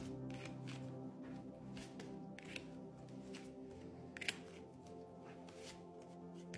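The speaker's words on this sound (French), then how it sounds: "je prends plusieurs cartes" Tarot cards being shuffled by hand, a soft continuous riffling with repeated crisp flicks and slaps over a low background hum, close and fairly quiet, no voice.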